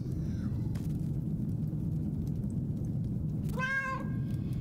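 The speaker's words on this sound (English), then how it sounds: "Oh, a kitty cat." A cat in the horror video game Nightmare of Decay gives one short, clear meow, alone over a constant low ambient rumble of game background noise.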